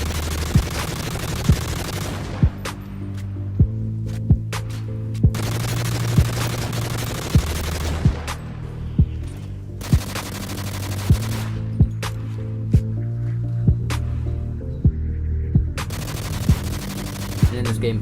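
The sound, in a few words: rapid fire gunfire in a video game using CronusMax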